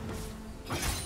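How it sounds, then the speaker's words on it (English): A short shattering crash as a turret is destroyed in League of Legends, a dull rumble swelling into a bright burst near the end. "team's turret has been destroyed."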